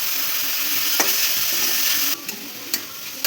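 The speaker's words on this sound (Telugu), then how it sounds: "ఇప్పుడు సొరకాయ ఫ్రై చేసుకున్నాం లైట్గా పచ్చివాసన పోయే వరకు" Bottle gourd pieces fry in a kadai with a steady close sizzle, broken by a few sharp knocks and scrapes of stirring, with no voices.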